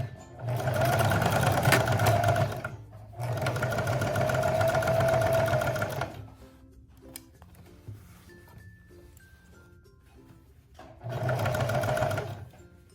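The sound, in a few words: sewing machine stitching with single needle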